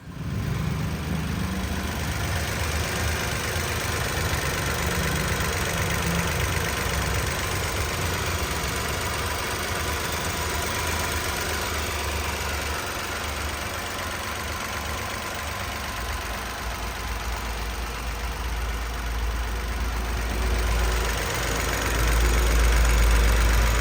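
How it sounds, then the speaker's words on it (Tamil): A 2011 Nissan Micra XV hatchback's engine idles up close with a low, even rumble and faint knocking, swelling slightly louder near the end. "இப்போ இந்த வண்டியோட இன்ஜின் சவுண்டை டைரெக்டாக நம்ம கேமரா வச்சு ரெக்கார்ட் பண்ணி உங்களுக்கு சவுண்டை காட்டுறோம்"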